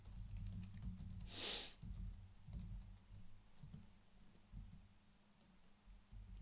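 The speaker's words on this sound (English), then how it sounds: "I'm not used to this keyboard." Typing on a computer keyboard while writing HTML for a blog on Arch Linux, a run of soft, irregular close key taps over low background hum, with one brief louder burst near the start.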